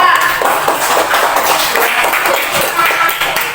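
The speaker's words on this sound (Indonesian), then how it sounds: "Tepuk tangan untuk tim 3." Loud, close, scattered clapping from a class of third-grade elementary school children cheering the winning team, dense and continuous for a few seconds.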